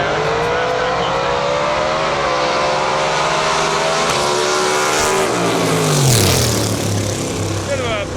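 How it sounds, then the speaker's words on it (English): A nitrous-fed Ford Mustang fastback drag car roars loudly at a drag-racing qualifying event, its engine note sweeping in pitch, with a brief pop near the end under a continuous crowd-and-engine din and a commentator talking over it. "Bit of a pop there, back pressure, or backfire under the hood there on that nitrous Mustang."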